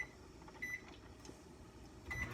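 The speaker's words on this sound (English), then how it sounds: "I'm about to start the microwave" A microwave oven heating milk gives a low, steady hum that runs throughout, quiet and close, with faint clicks and a few brief tonal chirps.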